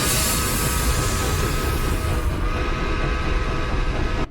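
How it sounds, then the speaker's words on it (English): A train from The Polar Express film arrives as a loud, thunderous rumble with rolling rail noise and hiss, filling the scene continuously without voices. "that train drowned out everyone else when it showed up."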